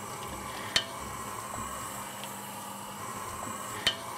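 A cauliflower, butternut squash and sweet potato curry is stirred in a pan over a steady low sizzle, with two sharp utensil knocks against the pan and faint scraping in between.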